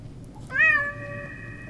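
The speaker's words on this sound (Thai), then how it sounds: "นี่มึงเลี้ยงแมวด้วยเหรอ" A single clear cat meow rises and then trails off, fairly close in a quiet room.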